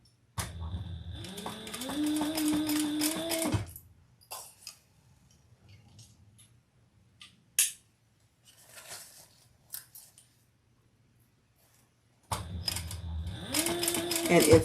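A sewing machine stitching a bag called The Eva runs in two loud, steady bursts at the start and end, with quieter handling noises and faint movement in the pause between.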